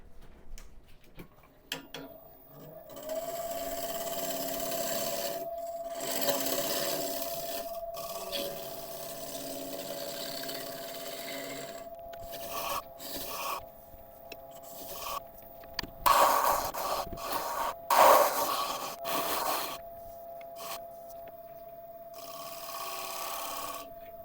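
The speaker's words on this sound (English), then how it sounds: "This big scraper has done an absolutely amazing job on this." Long, steady rasping strokes of a big hand scraper working across thuya burl wood, close and rhythmic with brief pauses between passes and occasional lighter ticks.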